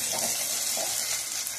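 Chicken pieces frying in a pan, a continuous hissing sizzle heard close and steady for a short stretch, with no voices.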